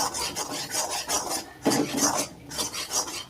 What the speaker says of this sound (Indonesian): cairkan margarin sampai betul-betul cair, kemudian masukkan tepung terigunya. Ini kita aduk sampai menggumpal seperti ini.